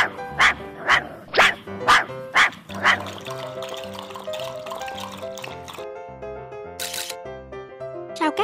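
Cartoon dogs bark in a quick series of about six loud, evenly spaced yaps, then give way to a soft musical score with tinkling notes, no talk heard.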